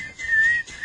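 A person whistles a single close, clear, sustained note, breaks briefly, then starts again.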